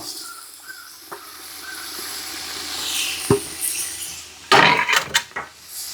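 Carrots and beans go into hot sunflower oil with a gentle sizzle, then metal utensils clatter and scrape loudly against the pan in quick bursts toward the end.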